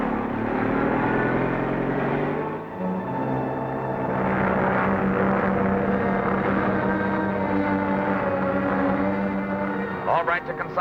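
A propeller airplane drones steadily and loud through the whole stretch, coming in for a forced landing, with a sustained engine hum, a brief dip partway, and some clatter near the end.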